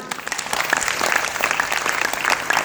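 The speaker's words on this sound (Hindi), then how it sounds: "जोरदार एक बार ताली।" An audience claps loudly and steadily together, a dense burst of applause from start to finish with no voices over it.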